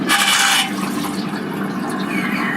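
A submarine water-closet toilet flushes with a loud rushing burst of water for about half a second, then a softer steady trickle and hiss of refilling water continues alone.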